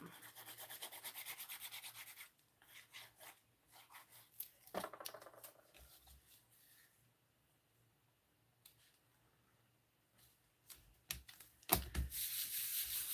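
A stamped paper craft piece gets rubbed firmly by hand, producing bursts of close scratchy rubbing and sanding-like friction, with pauses and quiet rustling in between, no speech.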